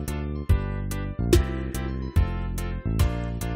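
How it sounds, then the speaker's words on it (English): A short piece of recorded music played back for bass-line isolation, with regular strong beats about every half second over sustained harmonic tones, clear and alone. "load up a short piece of music that sounds like this"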